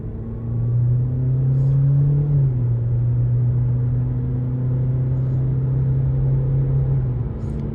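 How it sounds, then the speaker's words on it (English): A 2025 Kia K4 LX-S on the highway has a steady low engine drone that builds briefly as the throttle opens, holding a constant hum while cruising up toward 50 mph, alone with no talk. "Giving it a little throttle there as we head up to around the speed limit here of 50 miles per hour."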